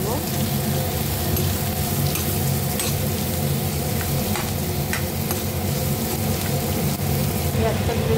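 Onion and garlic fry in hot oil for a mashed potato bharta, a steady loud sizzle with occasional stirring scrapes running unbroken from start to finish.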